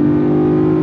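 A supercharged V8 in a 2023 Land Rover Defender 90 roars under acceleration, a loud, close, sustained engine drone with a steady throaty tone and no talk.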